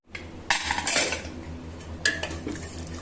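A pot of cooked dal is opened with sharp metallic clanks of lid and utensils against the pot, two clusters of clinks over a quiet kitchen background.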